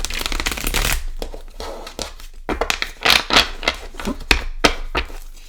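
Cards being shuffled repeatedly, a long riffle followed by bursts of quick flicking and slapping, close and fairly loud with no talking.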